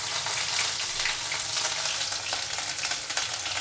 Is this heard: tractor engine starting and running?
no